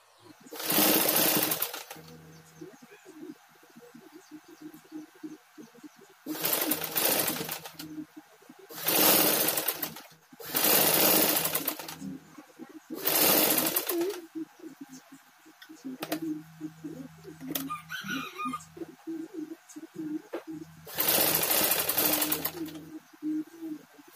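A sewing machine stitches a kebaya sleeve in several loud whirring runs of one to three seconds each, separated by quieter pauses, close to the listener.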